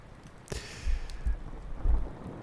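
An outdoor thunderstorm with rain: a sharp thunder crack followed by deep rolling rumbles over a steady hiss of rainfall, loud and close, no voices.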